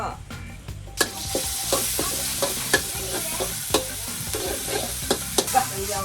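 Cabbage is stir-fried in a pan at a seafood restaurant, with a continuous loud sizzle broken by repeated sharp clacks of the utensil scraping and tossing against the pan.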